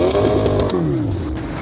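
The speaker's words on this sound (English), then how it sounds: "Give it a bit of a rev." A Toyota Corolla fitted with a Suzuki Hayabusa motorcycle engine revs hard, a loud close engine note that climbs and then falls away in a single brief rise, with no talk.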